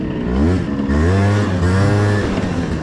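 A 50cc scooter fitted with heavy rollers accelerates hard on a hot day, its engine droning up and down in pitch, loud and close, with no other sounds.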